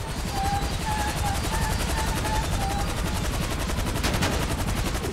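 Rapid machine-gun fire rattles without pause from a helicopter in the GTA Online video game, loud and dense over a thrumming rotor drone, with a few tonal beeps and no speech in the moment.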